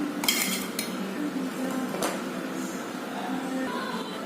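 A utensil clinks and scrapes against a bowl while stirring a sweet and spicy sauce for grilled tofu, a few bright metallic taps over a faint, close mixing sound.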